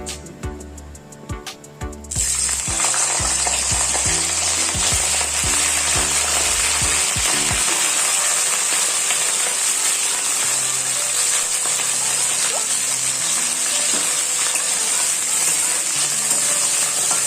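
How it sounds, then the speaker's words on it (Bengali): Cauliflower florets dropped into hot oil, starting with a short burst of clattering and stirring, then a loud, even, continuous sizzle that carries on alone to the end. "তেল গরম হয়ে গেছে, এবার আমরা ফুলকপি দিয়ে দিচ্ছি।"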